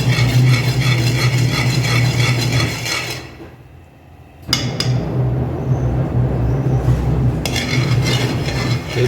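A spoon stirring sohan chocolate mixture in a metal pan, steady scraping and clinking that drops out briefly midway, then resumes loudly with no talk.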